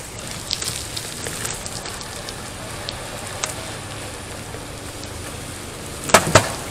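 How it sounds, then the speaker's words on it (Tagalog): Light drizzle falls outdoors on a street in Singapore, a soft steady hiss of fine raindrops with a few faint taps and a sharper clatter near the end. "Umaambon na mga kaibigan."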